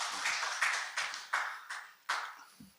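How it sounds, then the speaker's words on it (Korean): Scattered applause from the audience at an international academic conference: a handful of separate claps, faint and spaced out over a few seconds, with no talking. "박수로 환영해 주시기 바랍니다."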